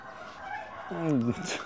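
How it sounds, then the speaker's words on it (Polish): A rooster crows once at a distance near cockfighting cages, a short rising and falling call over faint background noise and murmuring voices. "Tam są klatki z kogutami."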